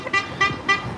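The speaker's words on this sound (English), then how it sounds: "I'll honk the horn in the middle of the street." A car horn toots three short times in an even rhythm out on a New York City street, loud and near, with traffic hum underneath.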